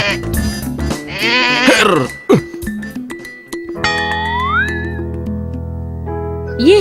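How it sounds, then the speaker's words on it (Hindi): A goat bleats loudly and close by, in several wavering cries under a busy scene with a cough-like sound and other noises, no clear speech over it. "ये बकरी कहाँ से ले आए हो तुम?"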